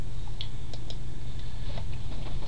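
Someone types on a computer keyboard, giving a handful of light, irregular key clicks over a steady low hum of room noise.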